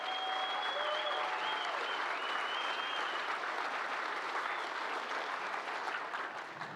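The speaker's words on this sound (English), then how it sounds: "A big round of applause in advance of the inductions this evening." Steady applause from the audience fills a hall at a water ski and wake sports hall of fame induction ceremony. It is a dense, even wash of clapping that carries on at moderate volume for the whole stretch, with a few faint cheers mixed in.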